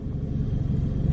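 An old daily-cruiser car with 140,000 miles rolls into a driveway, giving a brief, close, low engine rumble at idle-like speed.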